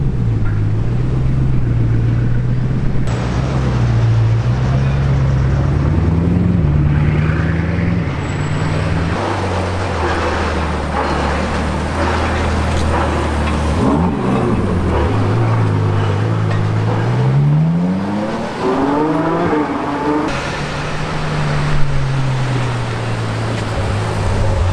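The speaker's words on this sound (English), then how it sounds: "the sound of this incredible W16 can be heard just going through" Bugatti Chiron with its W16 engine driving past in Monaco's harbor, a loud continuous engine drone whose pitch rises and falls as it moves through gears and passes by, over steady street background.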